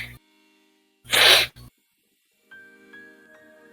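A single sharp sneeze bursts out at close range, followed by a short breathy catch and then quiet, with faint tonal background sounds.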